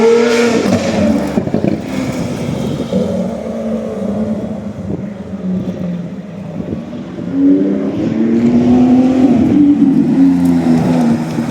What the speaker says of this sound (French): Voilà, donc V6 3 litres 8 biturbo, pour ceux qui ne connaîtraient pas, VR38 DETT.